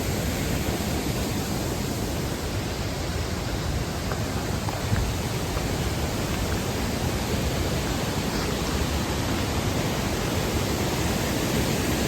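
Continuous broadband roar of a waterfall near caves in Colorado, close and steady with no breaks, filling the whole stretch without any voices.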